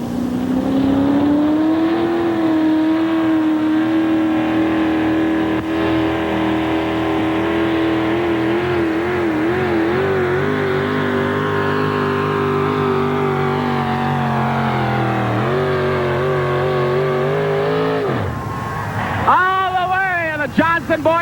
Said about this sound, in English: Three Bears is a hot truck, and Scott will have to get the best out of it to take the sled the distance